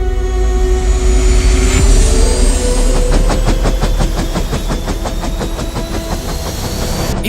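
Navy helicopter operating from a ship, a loud, steady turbine whine and low rotor roar close by, with a rhythmic blade beat growing stronger in the second half and no talk.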